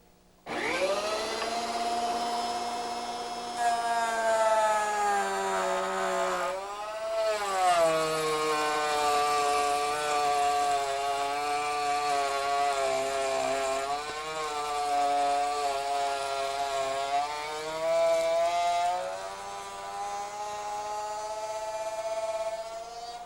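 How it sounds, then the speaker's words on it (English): A router cutting a door piece plunged into the spinning bit: a loud, steady high whine running for over twenty seconds, its pitch dipping and wavering as the wood loads the cutter. "we want to actually plunge the piece into the bit and run it through and remove it before we get to the end"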